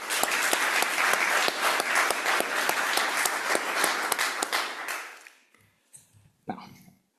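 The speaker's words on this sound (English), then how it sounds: "could we get a round of applause for all those speakers who came in here today?" An audience at a law review symposium applauds the speakers, a steady burst of clapping lasting about five seconds before it dies away, followed by a few faint scattered sounds.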